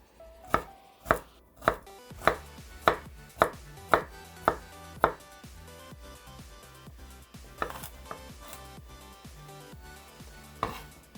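A knife coarsely chops garlic on a board with about nine crisp, evenly spaced thuds, then a quieter run of lighter, irregular taps, close and alone.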